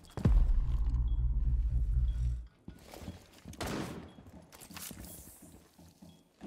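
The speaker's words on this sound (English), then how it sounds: "Sounds like someone's shooting out" Gunfire in Rainbow Six Siege, a heavy rumbling burst up close followed by scattered, fainter shots and thuds, irregular and partly muffled, with game ambience between.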